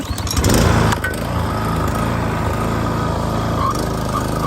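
Toro TimeMaster 30-inch lawn mower starting up and then running, a loud close engine burst at ignition settling into a steady, even drone.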